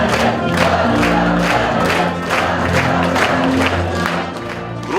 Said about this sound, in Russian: Громкие овации и аплодисменты